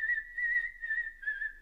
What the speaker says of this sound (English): Someone whistling the battleship march.